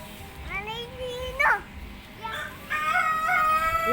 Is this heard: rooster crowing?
yes